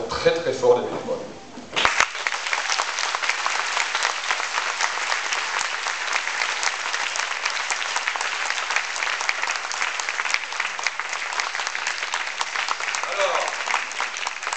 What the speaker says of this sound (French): Simplement, c'est d'applaudir très très fort les bénévoles.